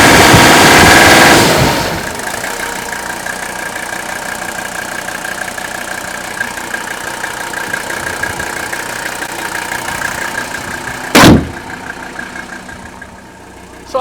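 An old Mercedes-Benz diesel engine with 167,000 miles runs smoothly at a steady idle, a close, continuous clattering drone after a louder opening burst, broken once by a brief sharp noise near the end.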